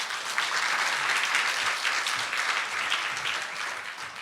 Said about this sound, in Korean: 우리 나오실 때 박수로 환영하도록 하겠습니다